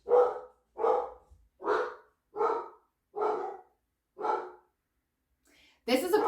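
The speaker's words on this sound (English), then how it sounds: "I just want the barking to go down." A dog barks six times at an even, measured pace with short gaps between, fairly close; a louder burst of sound cuts in at the end.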